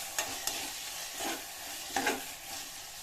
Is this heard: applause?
no